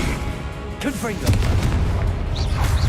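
Booming Confringo blast spells detonate repeatedly in Hogwarts Legacy, heavy explosive thuds landing one after another over a steady game background while a voice talks.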